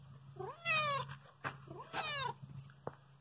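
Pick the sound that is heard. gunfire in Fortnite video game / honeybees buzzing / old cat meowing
old cat meowing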